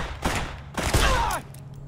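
Two loud .357 Magnum revolver shots in Fallout: New Vegas, roughly three-quarters of a second apart, each a heavy boom with a short ringing tail.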